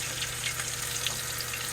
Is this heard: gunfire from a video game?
no